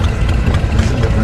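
A Harley-Davidson motorcycle with a shovelhead V-twin engine idles close by, a loud, low, steady rumble with no talk over it.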